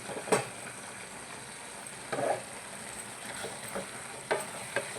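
Tamarind and tomato cook in a pan for tomato pickle with a steady soft sizzle and frying hiss. A few spoon stirs and scrapes come at intervals, and no one speaks.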